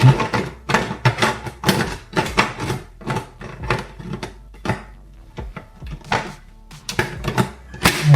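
A Bosch stand mixer works cookie dough with chips, producing an irregular run of close clattering knocks and thumps as the chunks tumble in the bowl, with no voices.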